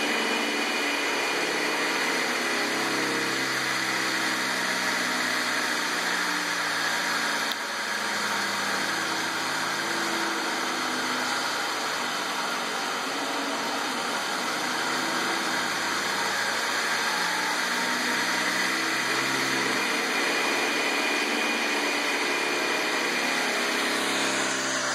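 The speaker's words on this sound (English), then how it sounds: "got the motor held down so it can't get away" A Siemens 1PV5133 electric motor, held down on a makeshift test bench with a DMOC645 controller, runs with a steady, even hum and a bright whine that stays constant throughout, close and with no speech.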